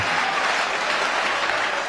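Steady applause from an audience at a live youth New Year's Eve show in Lubumbashi, a dense, even wash of clapping that holds at full strength throughout with no talk over it.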